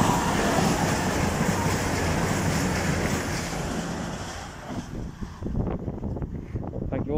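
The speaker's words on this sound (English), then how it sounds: "this looks to be 222-101. Yep. Going to London St Pancras is 222-101." Class 222 Meridian unit 222-101 passing at Attenborough on the Midland Main Line toward London St Pancras, a loud steady roar of the train going by close, fading toward the end with rhythmic wheel clatter over rail joints.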